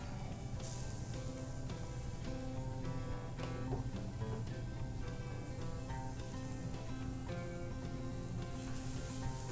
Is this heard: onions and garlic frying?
yes